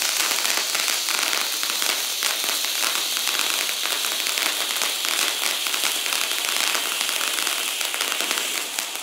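Fox Fireworks' Unicorn Fountain firework roars in a loud, sustained stream of dense crackling and hissing sparks, unbroken from start to finish, with no voices.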